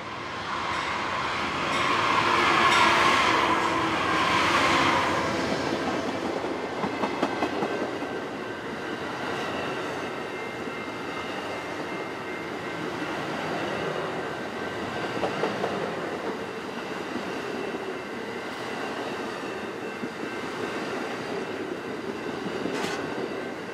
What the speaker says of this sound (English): catch Amtrak number 3, the Southwest Chief, passing through with Phase 1 Heritage Unit number 156 on the point